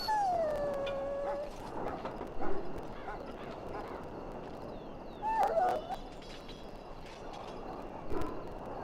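A dog whimpers in a pen in the video game Dragon Age: Origins, with two thin, high whining cries, one drawn out at the start and a shorter one midway, over a low ambient background with a few soft thuds.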